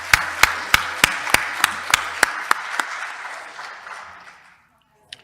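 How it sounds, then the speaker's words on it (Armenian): About ten sharp, evenly spaced claps ring out in a hall, with a softer wash of audience applause beneath that fades to silence, ending with one last faint clap. "Առաջարկում եմ ծափահարենք։"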